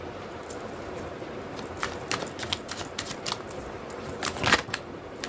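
Tarot cards slide and flick against each other on a table, a scattering of soft dry taps and brushes, close and quiet, with a sharper cluster near the end.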